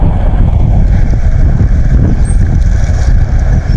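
Steady wind buffeting a microphone outdoors, a continuous low rumbling roar filling the whole stretch with no letup, loud and close, with no voices.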